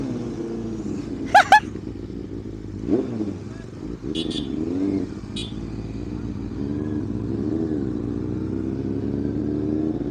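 A Benelli 600i motorcycle engine holds a steady mid-pitched drone while accelerating, with a couple of brief sharp clicks early on and voices talking over the ride.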